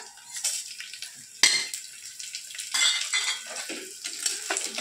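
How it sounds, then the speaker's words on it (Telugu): Dried red chilies, cumin and mustard seeds fry in hot oil for a sorrel dal tempering, crackling under repeated metal clanks and scrapes of a spoon against the pan. "పోపులో 2 ఎండుమిరపకాయలు, కొంచెం జీలకర్ర, కొంచెం ఆవాలు, పోపు."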